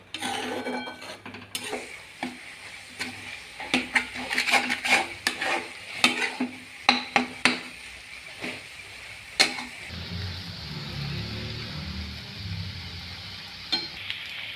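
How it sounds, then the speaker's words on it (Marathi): Egg and fenugreek bhurji stirred in a pan: a rapid run of spatula scrapes and clacks against the metal, then a steady, close sizzle once the stirring stops. "आणि हे आता छान मिक्स करून घेऊया"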